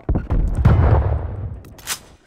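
Call of Duty Cold War gunfire, a quick burst of loud close shots followed by a booming rumble that fades, with a brief sharp noise near the end.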